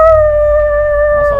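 A person's voice imitating a dog howling, one loud, sustained, wavering tonal howl held steadily throughout.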